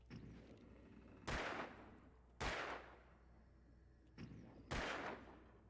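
Four loud, sharp gunshots in the video game Alan Wake, fired singly about a second apart with a short lull before the last pair, each one booming and decaying quickly over a quiet, rumbling background.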